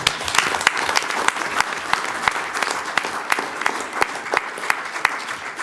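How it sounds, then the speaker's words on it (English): Audience applause at a county school board meeting, a steady stretch of many hands clapping with distinct sharp claps standing out above the crowd, fairly close and unbroken. "Let's give them a round of applause again"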